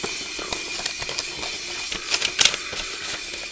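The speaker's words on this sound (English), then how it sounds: "I hate the sound of vinyls on these old sleeves." An original plain black vinyl record slides into an old paper sleeve, giving a dry scraping rustle with brief sharp clicks and scratchy bursts, close and fairly loud with no talking.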